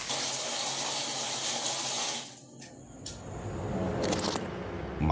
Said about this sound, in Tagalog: maririnig mo na papatak-patak na ang tubig sa gripo